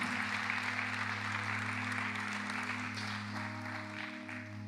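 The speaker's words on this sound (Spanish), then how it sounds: "Le damos un aplauso fuerte a esta palabra." A church congregation applauds during a Spanish-language sermon, a continuous wash of clapping beneath a sustained, steady tonal hum that lasts throughout and eases slightly toward the end.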